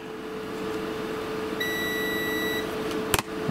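Electronic beeping from high-voltage test equipment: one steady high tone held for about a second over a constant mains hum, followed by a sharp click, with no talking.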